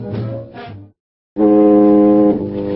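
Foghorn blasts on a San Francisco radio weather report: a short deep horn note repeats twice, then after a pause a longer, louder sustained blast booms out.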